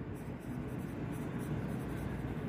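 A teacher writing on a classroom board during an English lesson, with continuous faint scratching strokes under steady low background noise and no clear talking.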